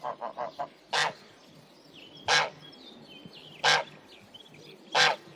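Geese honk in a cartoon farmyard: a quick run of four short calls, then single loud honks at regular intervals of roughly a second and a half, over a soft background.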